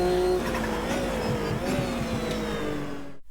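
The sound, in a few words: Porsche 962 race car driving in the game Automobilista 2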